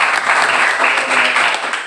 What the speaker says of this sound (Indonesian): Tepuk tangan buat Beatrice.